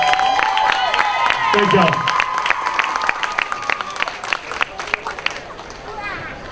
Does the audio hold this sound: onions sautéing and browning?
no